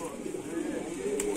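A haveliya pigeon coos in low repeated murmurs, steady and fairly close, during a pigeon tournament in Moradabad, with a brief brighter chirp near the end.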